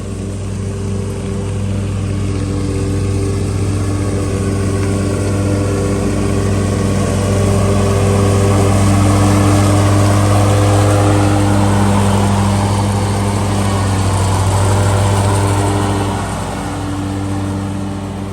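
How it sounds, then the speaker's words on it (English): A lawn mower runs continuously while cutting a thick backyard of weeds and crabgrass, its loud engine drone holding a steady pitch and swelling slightly as it works nearby, with no voices. "She's over here now, mowing this mess."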